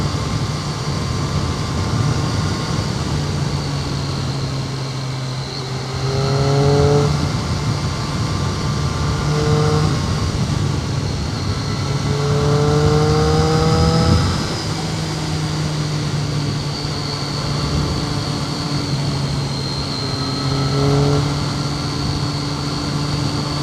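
Cars pass on a road at Land Between the Lakes, swelling and fading several times over a steady, low motorcycle engine drone that runs throughout.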